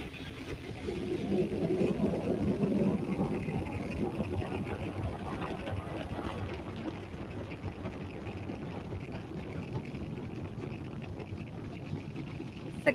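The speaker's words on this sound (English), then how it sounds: "Successful liftoff from Space Launch Complex 40 in Cape Canaveral, Florida." A SpaceX Falcon 9 rocket lifts off from Space Launch Complex 40 at Cape Canaveral, Florida, carrying the USSF-124 Space Force mission: a continuous deep, rumbling roar heard from a distance that swells early, then holds steady and slowly fades.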